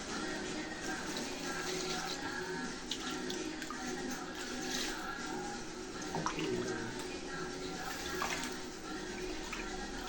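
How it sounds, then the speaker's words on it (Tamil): Rice-washing water poured over chicken pieces for a country-chicken curry, a continuous splashing trickle of liquid lasting several seconds with small clinks, fairly close and steady. "இந்த தண்ணியை இந்த சிக்கன்லாம் ஊற்றிக்கலாம்."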